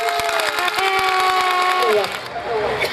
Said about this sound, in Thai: ขอเสียงปรบมือดังๆต้อนรับท่านสสสุนีเหลืองวิจิตรครับ